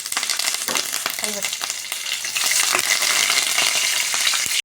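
Curry leaves, green chillies, ginger and garlic crackling in hot oil while cabbage is being tempered, a loud dense sizzle with spitting pops that swells and then stops abruptly, close to the pan.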